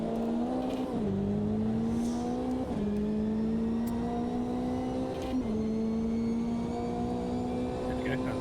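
A GT3 race car engine in Automobilista 2 drones loudly and steadily, its pitch climbing through the revs with a few sharp drops at gear changes, under a faint voice.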